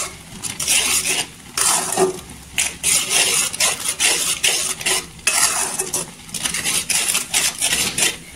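A spoon stirs a thick amla murabba mixture in a pan, scraping and clinking in bursts with brief pauses, close and fairly loud with no talking.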